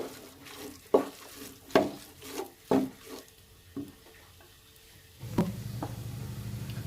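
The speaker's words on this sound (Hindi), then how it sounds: "मूंग दाल को भी हमें बहुत अच्छे से भूनना है मसालों के साथ।" Moong dal roasted with spices in a pan for kachori filling, a few sharp scrapes and knocks of the spoon over a faint sizzle, then a louder, steady frying hiss near the end.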